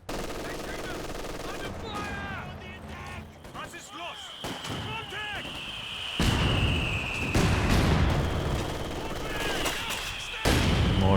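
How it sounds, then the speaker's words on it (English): Mortar fire and machine-gun bursts in Company of Heroes 2, a 2v2 battle: repeated blasts and rattling gunfire with bright whistles, getting louder and denser toward the end, with a voice talking over the noise. "Mortar pit though, really causing the Axis headaches."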